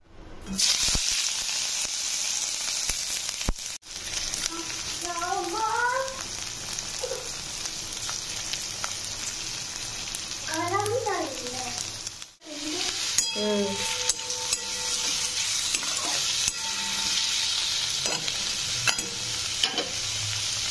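Oil sizzles in a wok before soybean chunks go in, a steady close hiss that runs throughout, with a few brief clinks and chirpy squeaks on top and no talk.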